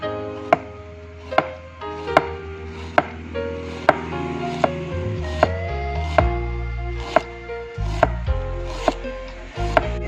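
Knife chopping onion for a salad on a board, sharp regular chops repeating at a steady pace, close and crisp over a faint background tone.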